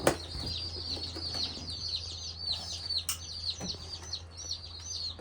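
Barred Rock chicks chirp in a steady chorus of high, thin peeps, many small calls overlapping close by with occasional soft flutters and no talking.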